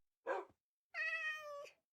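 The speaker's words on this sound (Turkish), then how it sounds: "Kedi de varmış." In Minecraft, a short cat sound is followed by a clear, drawn-out meow. It is fairly faint, with silence around and between the two sounds.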